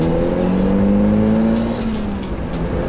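A 240 wheel-horsepower Mazda Miata accelerates hard in second gear, its engine note climbing steadily and loud throughout, close up, with no talk over it.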